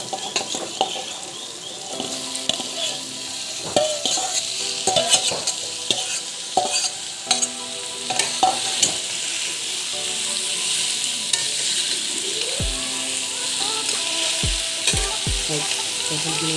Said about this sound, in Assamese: কঁঠালখিনি এতিয়া ফ্ৰাই কৰি আছোঁ আমি।